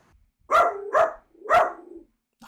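A dog barks three times up close, loud, sharp woofs spaced about half a second apart in an otherwise quiet room, with a fourth bark just starting at the end.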